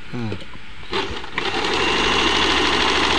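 A Janome sewing machine starts up and settles into a loud, steady mechanical whirr with rapid needle rattle, running continuously after a brief voice at the start.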